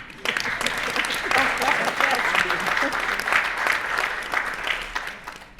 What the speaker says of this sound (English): Let's everybody clap.